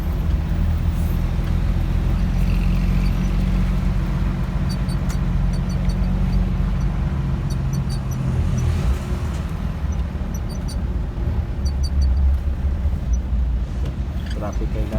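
Road traffic in Davao City rumbles steadily and loudly from passing cars and heavy vehicles, with people talking over the continuous roadway noise.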